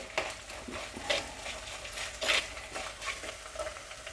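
Onions for a sardine curry fry in a pan, giving a soft steady sizzle broken by repeated scraping stirs of a utensil against the metal, close and moderately quiet.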